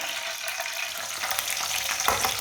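Finely chopped onion fries in a pan, a continuous close crackling sizzle with light stirring scrapes, steady and fairly loud, no talk.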